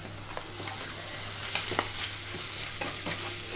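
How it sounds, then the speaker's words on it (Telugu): Turmeric, chilli powder, coriander powder and green chillies frying in oil in a pan for tomato boondi curry, giving a continuous sizzle with brief spatula scrapes and taps over a low hum. "ఇవన్నీ ముందుగా ఆయిల్లోనే కొంచెం ఫ్రై అవనిస్తున్నాను."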